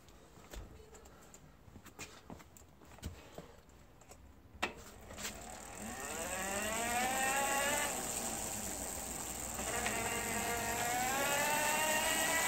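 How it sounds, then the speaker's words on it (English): A cheap DIY mid-drive ebike conversion motor whines as it changes gear down, starting with scattered clicks and taps before a steady rising and falling electric whine sweeps through its gear shift, close and fairly loud. "And now it's changing gear, changing down."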